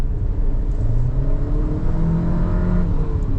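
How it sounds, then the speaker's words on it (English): GAC Emzoom with a 1.5-litre turbo engine and seven-speed dual-clutch gearbox accelerating at full power: a steady, loud cabin rumble with rising engine drone, no talking. "you can hear the sort of turbo whistling and sneezing a little bit"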